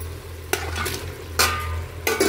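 Mutton sizzles and fries in hot oil in a pot for biryani, a steady close sizzle broken by three sharp scraping stirs of a utensil against the pan.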